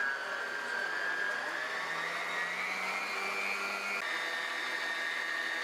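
An electric stand mixer whirs steadily in its bowl with sugar and flour being added, a continuous close motor drone whose pitch rises slightly and then drops a little near the end, heard without speech.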